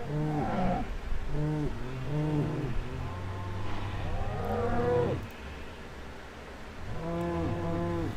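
Several cows moo in a series of long, drawn-out calls, overlapping and close, with short gaps between bellows and a steady low background hum.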